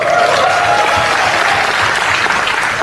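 A large audience claps at a speech or business gathering. The applause is loud, dense and continuous, filling the whole moment with no pause.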